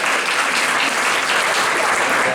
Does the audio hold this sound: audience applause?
yes